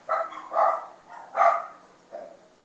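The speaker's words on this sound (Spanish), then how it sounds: "¡Perrito!" A small dog gives several short, muffled barks in irregular bursts, fairly close and moderately loud, in an indoor setting.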